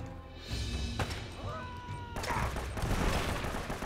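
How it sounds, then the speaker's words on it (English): A grenade going off in Uncharted: Drake's Fortune, a loud burst followed by a rumbling blast and crashing debris amid game gunfire, with someone talking over the action. "I'm going to use a grenade"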